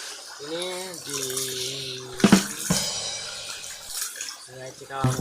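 The Cikalapa River in southern Cianjur runs with a splashing rush of flowing water, heard close by beneath intermittent voices.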